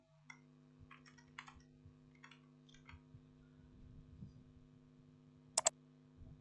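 Typing on a computer keyboard in a quiet room, a few faint scattered keystrokes and clicks over a steady electrical hum, then a sharp double click near the end.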